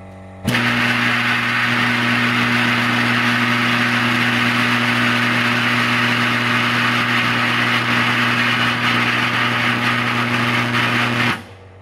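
A homemade 20,000 watt microwave oven blasts a lump of calcium metal into plasma, a loud constant electrical hum and roar that starts abruptly, holds steady for about eleven seconds, then cuts off.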